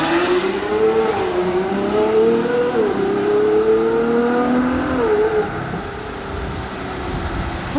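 Porsche Turbo accelerating on the far side at a gathering of modified cars, a loud sustained engine roar rising and shifting in pitch through gear changes, then easing off slightly near the end.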